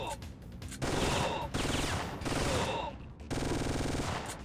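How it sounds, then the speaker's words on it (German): Gunfire in the video game Syphon Filter, heard as four loud sustained bursts of rapid shooting separated by brief gaps, with a faint murmur of background sound between them. "So, dann schieße ich halt in die Beine rein."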